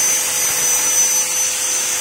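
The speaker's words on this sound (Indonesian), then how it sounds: "Kita potong menggunakan mesin gerinda ya." An angle grinder cuts through PVC pipe with a loud, steady high-pitched whine that holds evenly throughout, close up and with no speech.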